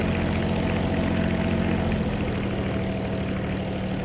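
A Curtiss P-40E Warhawk engine runs up to 2,300 RPM, a loud, close, sustained propeller-aircraft roar with a steady low throb that eases slightly toward the end.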